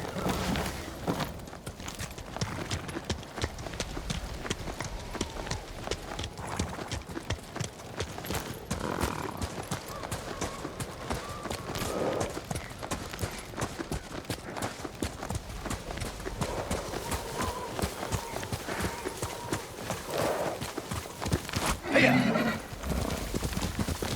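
In Ghost of Tsushima, a horse trots in a snowy setting with a steady rhythmic clip-clop of hooves throughout, broken by occasional neighs and whinnies, while voices talk faintly in the background.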